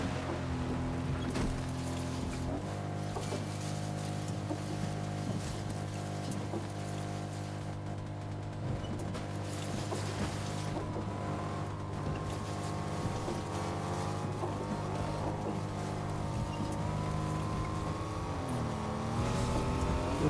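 A car drives in Fortnite with a steady, droning engine hum that shifts pitch slightly as it moves, continuous and fairly close throughout with no talk.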